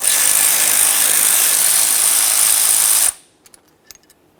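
A power tool whirs loudly and steadily for about three seconds while removing a caliper mounting bolt on a Jeep Liberty, then cuts off and leaves a few faint clicks and clanks.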